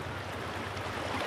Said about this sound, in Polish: Mocny strumień! Bardzo mocny!